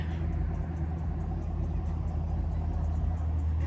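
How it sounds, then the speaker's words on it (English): A Chevrolet Camaro SS rumbles nearby with a steady, low engine drone that holds at an even loudness throughout. "Oh, it's a car coming. That bitch sound good."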